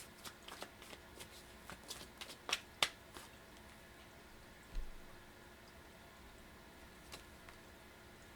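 Tarot cards shuffled by hand, faint riffling and soft snapping clicks in a quiet room, with a few sharper slaps scattered across several seconds.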